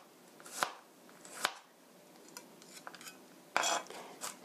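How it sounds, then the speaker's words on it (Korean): A knife minces garlic cloves on a cutting board in a few sharp, separate chops, followed by lighter taps and scraping, close and fairly quiet. "찹스 다져주세요"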